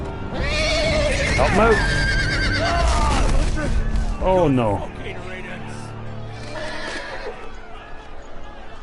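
A horse neighs loudly several times amid shouting voices in the Game of Thrones video game, the whinnies rising and falling before fading into quieter background.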